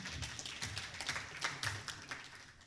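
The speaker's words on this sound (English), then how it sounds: "Clap for him" An audience claps at a chemical management launch event to welcome a speaker, a faint scattering of individual hand claps that swells briefly and then thins out.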